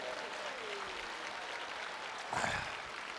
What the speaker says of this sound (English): let's give the young people a round of hand, round of applause